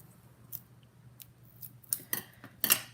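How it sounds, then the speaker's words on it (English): Small scissors snip paper strips with a few crisp clicks that come closer together and grow louder near the end, over a quiet room hum. "These scissors are not good scissors, as it turns out."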